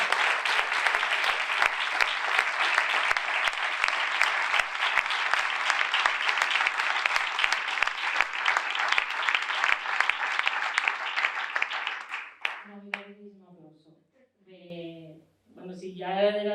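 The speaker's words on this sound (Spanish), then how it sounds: "Jolín, un gran aplauso." An audience at a women's basketball event applauds loudly and steadily for about twelve seconds, then the clapping fades out and a voice begins speaking alone.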